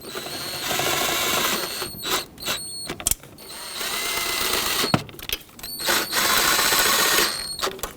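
Ignition coil bracket bolts on a 2010-2015 Lexus RX350 engine being snugged down in a cross pattern, with a whirring power driver running in bursts and brief ratchety mechanical clicks between pauses, close and fairly loud.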